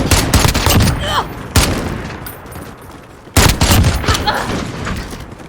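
EBR-14 marksman rifle firing in Call of Duty: Modern Warfare, three loud close shots spaced a couple of seconds apart, each followed by a rattling echo and mechanical clatter.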